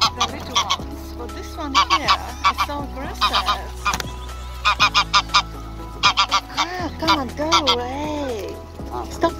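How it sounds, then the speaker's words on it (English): Egyptian geese honking loudly and repeatedly at a park boating lake in Regent's Park, London, with clusters of harsh calls close by and a person speaking over them. "The Egyptian geese got quite a lot."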